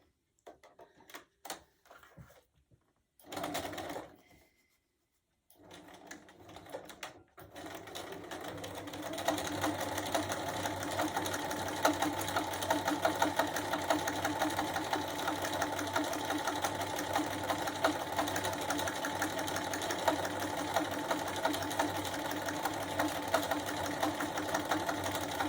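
Sewing machine stitching a quilted fabric gift basket: a few short bursts and pauses, then a long, steady, fast mechanical rattle that runs close and loud without a break.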